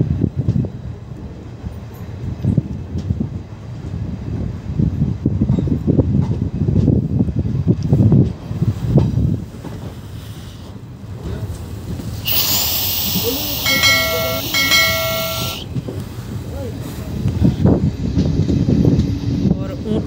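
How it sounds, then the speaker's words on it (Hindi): A Mathura-Jaipur passenger train, number 04173, pulls out of Untwar station on the Alwar-Mathura line, with a continuous rumble and rattle of carriages, a loud hissing whistle-like blast midway, and voices talking over it. "हमारी ट्रेन अब ऊंटवाड़ को हरी झंडी दिखाते हुए निकलती हुई यहाँ से"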